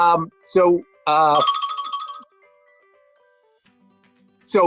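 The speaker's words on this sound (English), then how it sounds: "that was my phone." A phone ringtone cuts into an interview, a short bright melodic chime between stretches of talk, then fading to near silence before a voice returns.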